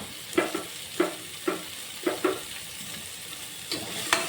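Vegetables being stirred into a sizzling pan for veg biryani, with a steady low fry under a series of sharp spoon scrapes and knocks coming every half second or so, close by and quiet, with no talking.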